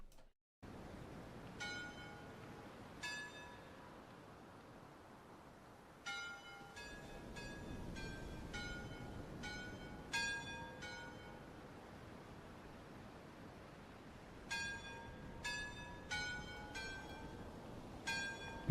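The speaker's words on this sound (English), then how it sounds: "The bells actually play when the thing hits the bell." Bells in a video game chiming as an object strikes them, clusters of bright metallic dings arriving in irregular bursts over a soft, noisy background, fairly quiet.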